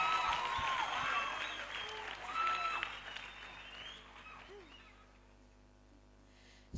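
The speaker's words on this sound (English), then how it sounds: "Come on, somebody, clap hands for Jesus." A church congregation claps hands amid voices and shouts, lively at first and then fading away to near quiet over the last couple of seconds.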